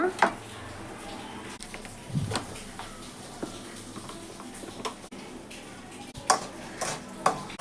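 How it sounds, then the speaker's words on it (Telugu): Ragi flour is being stirred and fried in ghee, with scraping spoon strokes and sharp clicks of metal on the pan over a light sizzle, and some quiet speech in the background. "అదే నేతిలో రాగి పిండి వేసుకొని ఫ్రై చేసుకుంటున్నానండి"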